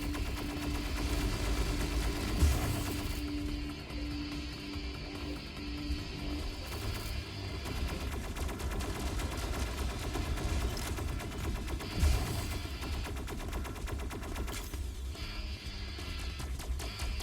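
Sustained minigun fire from Bastion in a video game, a dense continuous roar of rapid gunfire running throughout with a couple of louder thumps, alone without talk.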